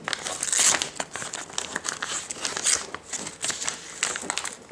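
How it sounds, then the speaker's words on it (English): A shipped package is cut open up close, producing loud crinkling, crumpling and tearing of packaging material in uneven bursts, with no talking over it. "Let's cut it open."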